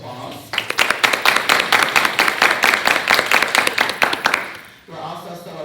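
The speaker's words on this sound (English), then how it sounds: "let's give all of them a round of applause" An audience claps steadily for about four seconds, a dense burst of applause for school board candidates at a public education forum, fading out before a voice resumes.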